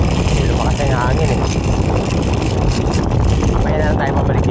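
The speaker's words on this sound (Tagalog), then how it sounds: "lumakas na yung hangin" Strong wind roars and buffets the microphone continuously over a boat's steady engine rumble, with a voice faintly audible beneath.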